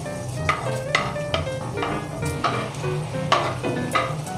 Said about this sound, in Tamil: இந்த மாதிரி கிளறி விட்டுட்டே இருங்க.